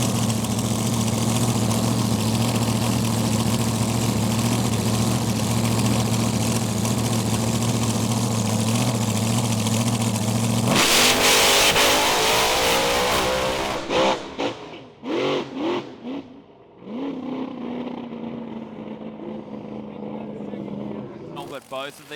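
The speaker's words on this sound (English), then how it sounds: "that sounded like it wasn't shifting there for Casey." Race car engines during a race: a loud, steady droning roar breaks midway into rougher revving bursts and brief dropouts, with commentary voices over it.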